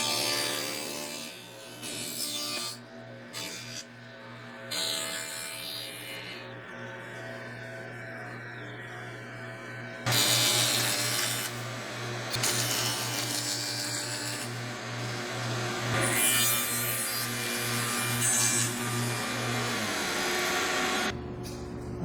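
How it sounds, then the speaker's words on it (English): A dado blade cuts through wood on a table saw box joint sled, with a loud, steady motor whine and droning hum that shifts pitch as the cut begins and continues, alone without speech. "now it's time to bring that dado through"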